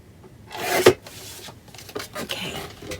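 A small paper trimmer slices through a piece of cardboard, a close rasping rub peaking in one sharp cut near the middle, followed by lighter scraping and handling sounds.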